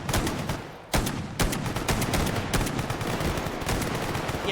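Automatic gunfire in a shooter video game as a magazine is emptied, a loud dense stream of rapid shots with a few sharper cracks standing out, continuous for several seconds.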